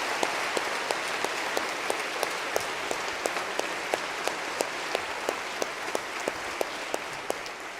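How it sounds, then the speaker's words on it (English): Applause from a large audience of around 900 people at a memorial-style service of love and unity in Macon, steady clapping throughout with regular sharp claps standing out, filling the hall with no voices on top. "Let's give a round of applause for that."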